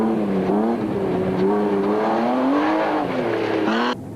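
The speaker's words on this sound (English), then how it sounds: "Enzo Kuhn was finding the rear-wheel drive top car BMW a handful on the tighter sections" A rear-wheel drive BMW rally car races along a mountain trail, its engine loud and close, revving hard with rising and falling pitch through the gears and a brief sharp shift near the end.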